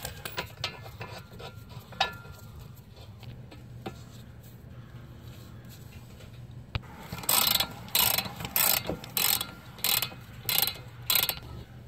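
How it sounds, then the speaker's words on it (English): Ratchet clicking in bursts on a bolt of a 2014-2020 Nissan Rogue while the driver's side CV axle is replaced, several loud rhythmic runs of clicks in the second half after a quieter stretch of faint shop noise, with no talking. "We'll just switch over to the ratchet."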